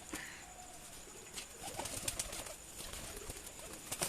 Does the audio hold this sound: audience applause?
no